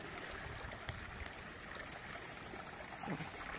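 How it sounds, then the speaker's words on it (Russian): A forest stream babbles in a faint, steady, continuous wash of trickling water, heard alone without voices. "А вода журчит."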